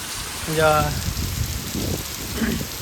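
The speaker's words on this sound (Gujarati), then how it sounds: "બહુ વરસાદ છે" Heavy rain pours steadily in a dense, continuous hiss, with a voice briefly speaking over the downpour.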